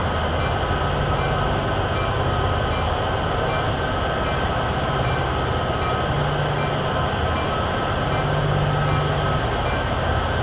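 Freight train in Train Sim World 6 on the Cheyenne to Laramie line rolling past at about 35 mph, a steady, dense rumble of wheels and cars with a low engine drone, continuous and close throughout, no talking.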